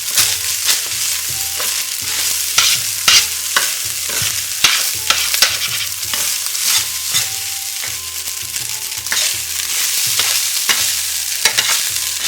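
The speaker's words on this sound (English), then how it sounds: "So I'm just going to continue to keep moving the rice in the pan until it gets golden" Rice fries in a hot pan as a utensil keeps moving it around, a loud, steady sizzle punctuated by frequent rhythmic scrapes and taps against the pan, close up with no talking.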